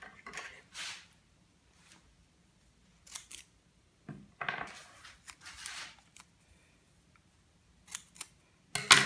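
Scissors cutting a piece of tape in two, scattered sharp snips and rustles of tape, fairly close, separated by quiet gaps, with a louder crisp snip at the end.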